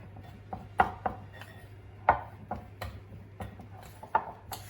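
A spoon knocks and scrapes against a bowl while mixing buckwheat flatbread dough, giving soft irregular clacks at a slow uneven pace over a faint low background hum.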